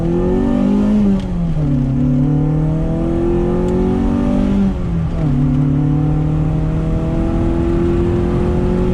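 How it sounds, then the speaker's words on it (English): Engine on a street tuning pull revs up through gears, loud and close, pitch climbing then dropping at each shift with two clear shift points, steady roar throughout with no talk. "we're just gonna do another 1, 2, 3 pull to make sure all the fuel's looking legit"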